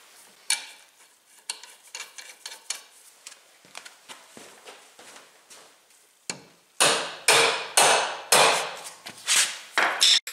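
A hammer strikes a stuck bolt on a Badboy ZT Elite zero-turn mower. Light taps come first, then a run of loud, ringing metallic blows at a steady rhythm, close by and with no voices.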